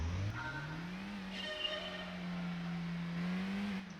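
A Mazda Demio's engine drones steadily in Gran Turismo 2 during a cornering license test, its pitch climbing and easing slightly as the car accelerates, with a faint tire squeal in the background.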